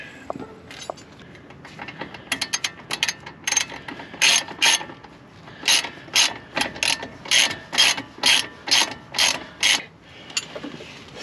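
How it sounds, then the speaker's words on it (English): Ratchet wrench with an 18mm socket tightening the lower bolt of a Fox replacement shock on a 2007 Jeep JK, giving quick metallic clicking bursts repeated in a steady back-and-forth rhythm, close and clear with no talk. "Now we're going to tighten up the bottom with our 18mm socket and our 18mm"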